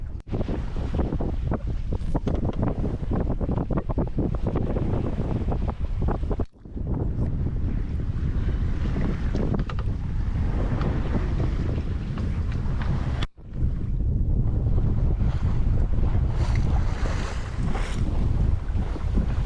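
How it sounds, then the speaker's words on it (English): Strong wind roaring steadily across the microphone on a sailboat crossing the open Pacific, with waves and water rushing past the hull, loud and continuous with two brief dropouts. "The wind has actually improved quite a bit throughout the day, which is good."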